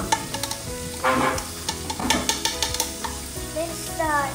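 Cooked rice goes into a hot wok for egg fried rice, bringing loud close frying and repeated scraping stir strokes with clinks of utensil on metal over a constant sizzle.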